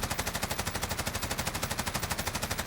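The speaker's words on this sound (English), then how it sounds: "how is it when we shoot it into the wall?" A Bruen Mk9 rifle in Call of Duty Warzone fires a sustained full-auto burst into a wall, rapid evenly spaced shots dense and loud with no talking.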